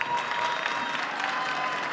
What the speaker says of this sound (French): Je vous demande d'applaudir Michael Humbert.